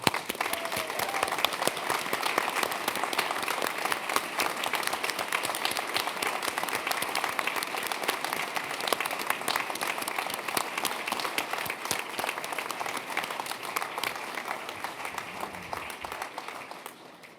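A graduation conferring ceremony audience applauds at length, a steady roar of many clapping hands that continues evenly for a long stretch before slowly tapering off at the end.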